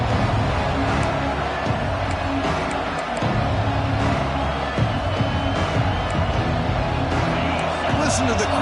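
A large stadium crowd at a Texas vs Tennessee football game roars and cheers steadily, with scattered whoops rising over the din and voices mixed in throughout.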